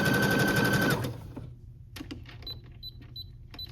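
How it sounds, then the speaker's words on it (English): Elastic is stitched onto a woven romper with a sewing machine, a fast rapid whirring run for about a second, followed by quiet fabric handling and small clicks. "And then I'm just sewing it on."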